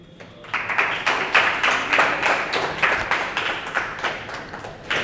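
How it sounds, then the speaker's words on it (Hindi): An audience claps for student test toppers being honoured with gifts at a school event, a dense burst of applause with sharp individual claps swelling and holding steady for several seconds. "जोरदार तालियां हो जानी चाहिए"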